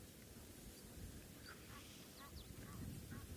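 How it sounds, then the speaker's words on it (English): Egyptian geese honk and call from a distance at a dam with red-brown soil, faint repeated harsh notes over steady outdoor ambient noise. "I can hear some Egyptian geese"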